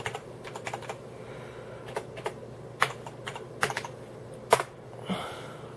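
Computer keyboard typing of a sudo power off command while setting up a junk-drawer home server, heard as sparse, irregular clicks and key taps that get louder near the end, close by and with no talking.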